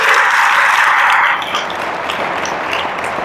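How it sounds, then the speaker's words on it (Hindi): A church congregation in Kappa, Chhattisgarh claps during a Bible teaching, a loud even burst of applause for about a second and a half that then thins into quieter scattered clapping. "कम से कम उसके लिए तालियां तो बजाइए।"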